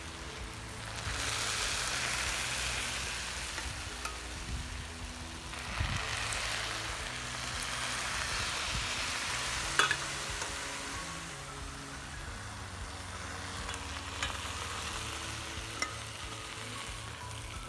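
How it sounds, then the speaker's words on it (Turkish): Syrup poured over hot baklava sets off a steady crackling sizzle, like frying, with several soft surges as more syrup is added and no talking. "Şöyle bir şerbet ve üstüne döküyorum. Sesini duyuyorsunuz."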